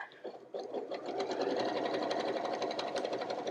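A secondary sewing machine stitching continuously at a steady, fast rhythm, loud and close, running alone without talk.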